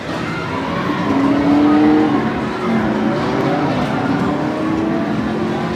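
Arcade racing video game at an amusement arcade, with a car revving and accelerating over steady loud game noise, a brief squealing tone mid-clip and no talking.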